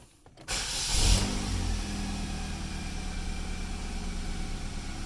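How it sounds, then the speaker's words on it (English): A Chevy Malibu engine cranks and catches after a brief silence, then settles into a steady, fairly loud idle that continues to the end. "Now we start the car up."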